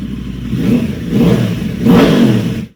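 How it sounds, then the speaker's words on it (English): A small pit bike engine with a stock exhaust revs in three rising pulls, loud and close, its rough low-mid drone swelling each time before cutting off abruptly. "decreasing the sound made by this engine"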